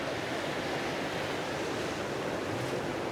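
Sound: sea waves at Phuket, Thailand

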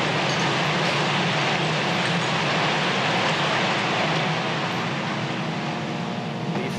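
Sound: military drones flying over Gaza, recorded outside Shifa hospital

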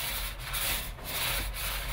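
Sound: paint roller rolling on dull black coating

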